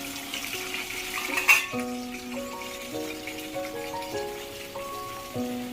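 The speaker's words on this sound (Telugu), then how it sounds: "ఆయిల్ కొంచెం హీట్ అయ్యాక మిరపకాయని ఇలా ముక్కలుగా చేసుకొని వేసుకోవాలి" Chopped chilli pieces hit about two spoons of hot oil in a pan and fry with a steady, moderate sizzle throughout, with a gentle tonal melody playing over it and no talking.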